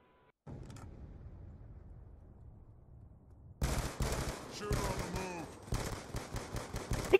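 Peacekeeper shotgun blasts in a raid video game, a dense run of loud, sharp shots starting abruptly and repeating irregularly after a quieter stretch of low rumble.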